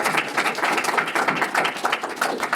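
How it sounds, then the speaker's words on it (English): A roomful of people at an investor pitch event clapping steadily, a brisk continuous patter of applause at moderate loudness. "Applause."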